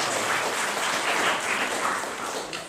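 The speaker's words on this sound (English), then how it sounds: "Let's give some applause." Audience applause fills a conference hall, with dense, steady clapping from a sizable crowd that thins slightly toward the end.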